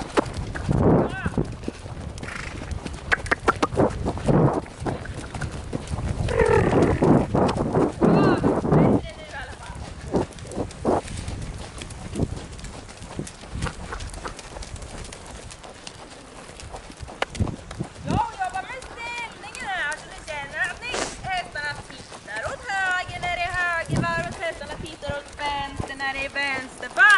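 Rhythmic clip-clop of a horse's hooves on firm ground during a riding lesson with the horse Miramis, steady walking beats that turn louder and quicker for a stretch, under an instructor's frequent spoken directions.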